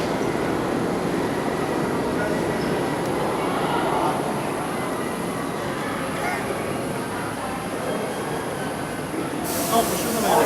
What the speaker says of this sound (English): Of course, it's another express train